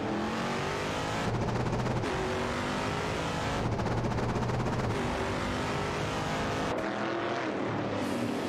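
Race cars in an AI racing game roar along the track, a continuous loud engine drone with shifting pitch as cars pass and rev, no talking.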